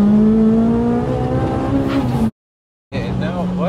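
A Rotrex-supercharged 450 bhp Honda Civic Type R EP3 engine roars loudly at high revs, cuts off abruptly into a brief silence, then returns revving with a rising whine.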